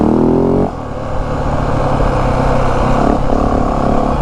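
A 2025 Yamaha WR 450F dirt bike on its stock mild map with the airbox restrictor fitted roars close and loud. The engine note dips sharply for a moment as it clicks into third gear, then settles into a steady, droning pull.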